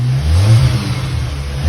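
A straight-piped Volkswagen GTI engine revs up with a deep, rumbling exhaust, loud and close, surging then easing back over under two seconds.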